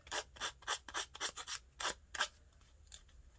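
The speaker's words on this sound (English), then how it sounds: "just a cheap everyday emery board, and you just go around the edge and just keep sanding down" An emery board sanding around the edge of paper, a series of close, quiet scratchy strokes in an uneven rhythm, about ten rasps before trailing off into near silence.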